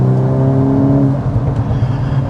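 A 2026 Volkswagen Golf R with a 2-liter turbocharged four-cylinder accelerates hard. Its engine drone is loud and close, rising in pitch, then changes tone as it shifts gear partway through, and keeps pulling.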